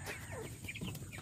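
Chickens in a rural farmyard pen cluck several times in quick succession, close by and moderately loud, with no talking.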